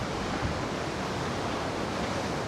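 Steady broadband rush of seawater flowing and surging through a sea cave at high tide at the end of Geary Street in San Francisco, constant and fairly loud with no voices.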